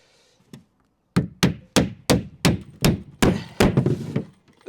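A hammer drives nails through OSB sheathing into timber framing in a run of about nine sharp, evenly spaced blows, close and loud, with no talk.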